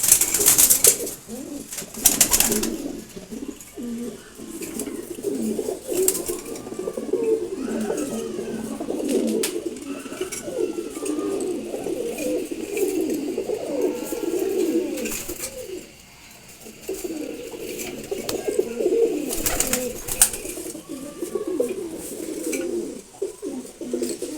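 Pigeons cooing steadily in soft, repeated low calls, several birds overlapping close by, with occasional sharper bursts and light rustling and no talk.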